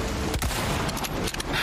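Gunfire in the video game Resident Evil 4 Remake, a short burst of loud overlapping shots with a booming, dense crackle, close and heavily compressed.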